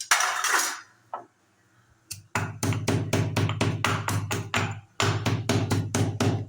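Black pepper and cumin crushed for rasam, heavy rhythmic pounding in quick even runs of sharp knocks with a short pause between bursts, loud and close, preceded by a brief scraping rustle.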